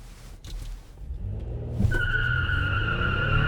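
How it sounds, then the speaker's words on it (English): A 2008 Toyota Sienna minivan launches hard with its tires spinning: a low engine rumble builds, then a loud, sustained squeal of wheel spin rises and holds, close by, with no talking. "I wasn't expecting it to have that much wheel spin"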